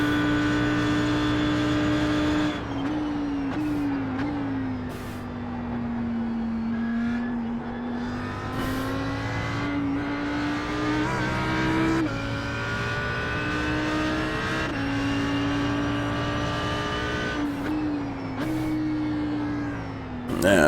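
Audi R8 GT3 race car engine in the iRacing simulator at Imola, a steady loud in-car drone that rises and falls through gear changes and throttle lifts, with brief shifts, running continuously for the whole lap section.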